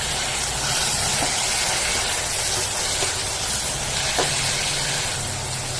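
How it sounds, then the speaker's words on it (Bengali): Prawns coated in salt and turmeric fry in a hot pan, giving a steady, even sizzle and hiss that carries on without a break, with a few faint pops. "আমি আগে থেকে ধুয়ে নুন মাখানো হলুদ মাখানো চিংড়ি মাছটা দিয়ে দিলাম।"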